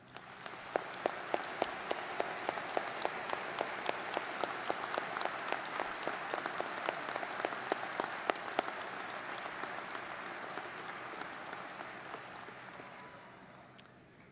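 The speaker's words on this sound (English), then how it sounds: "Please give them a round of applause." At the University of Dayton 2023 undergraduate commencement, a large seated crowd applauds faculty and staff, a sustained wash of clapping with sharp individual claps standing out, holding steady before slowly tapering off.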